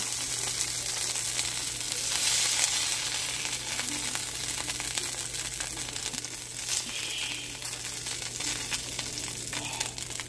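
Chicken frying in oil in a cast iron pan, giving a steady, close sizzle with crackling and occasional stirring, with no talk, and a low constant hum underneath.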